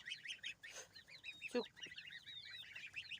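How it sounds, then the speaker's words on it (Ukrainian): High chirping peeps from goslings chatter continuously, with a louder honking call from a Muscovy duck cutting in briefly, heard at moderate distance without talk. "Отакі гусенята підросли. І ціпики тут. І одна індокачечка розбігає зими."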